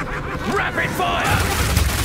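A rapid-fire attack in the video game Path of Exile 2 crackles as a quick burst of gunfire-like shots, loud and close, tangled with shouting voices and booming game effects.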